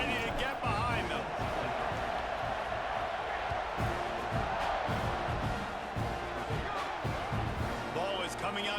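Stadium crowd in the EA Sports College Football 26 video game, a steady, loud roar of cheering fans before a kickoff, with dull thumps and a commentator talking over it throughout.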